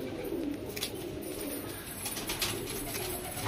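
Low, steady cooing from a group of domestic pigeons kept in a loft, continuous and moderately close, with faint higher chirps breaking through now and then.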